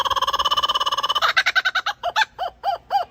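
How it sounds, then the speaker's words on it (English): A laughing kookaburra calls loudly and close, starting with a rapid run of cackling notes that break into slower, whooping laugh-like hoots. "Next, laughing kookaburra. Its voice is a bit more weird, seems like a witch is laughing."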